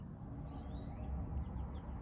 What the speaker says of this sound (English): I hope you can hear the birds singing.